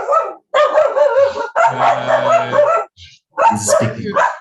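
A dog barks in a series of loud, close bursts separated by short pauses, alone with no talk over it.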